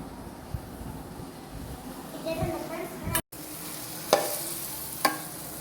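Spicy chicken masala being stirred in a hot pan, with a soft continuous sizzle, a few sharp spoon scrapes and clanks, and a brief dropout midway; someone speaks over the cooking.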